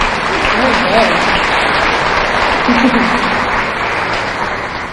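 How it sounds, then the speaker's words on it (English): Pageant contestants for a St. Patrick's Day Miss Shamrock event take the stage to steady, dense audience applause that fills the room and holds strong, fading slightly at the end. "please come and take the stage and be welcomed with a nice round of applause from the audience"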